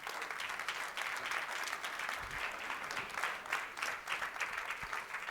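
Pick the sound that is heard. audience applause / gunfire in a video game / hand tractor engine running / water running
audience applause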